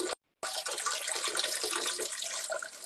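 A man urinates into a toilet, a steady close splashing stream that breaks off for a split second near the start, then runs on continuously.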